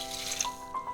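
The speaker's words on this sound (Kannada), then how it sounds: "ಕಪ್ಪಲ್ಲಿ 6 ಕಪ್ಪು ನೀರು ಹಾಕ್ತಾ ಇದ್ದೀನಿ" Water pours into a cooking pot for methi matar khichdi with soaked rice and dal, a brief, soft splashing trickle with a faint tonal ring as the pot fills.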